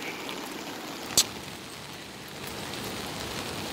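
Steady hiss of heavy rain pouring down during a thunderstorm, a dense continuous wash with one brief sharp knock partway through, no voices.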